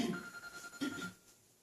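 A telephone rings during a Buddhist dharma talk in a meditation hall, a short, fairly faint electronic ringing tone sounding alone for about a second before fading into quiet room tone.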